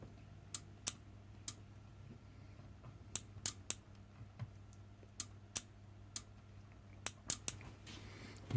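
Relays inside a faulty lab power supply click sharply through its voltage stages, with about a dozen crisp clicks at an uneven pace, some in quick pairs, over a low steady hum.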